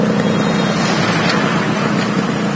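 Continuous loud engine roar of a 1987 Japanese-made Yamaha RX100 motorcycle on the move, with wind rush over a steady buzzing two-stroke rumble, recorded up close.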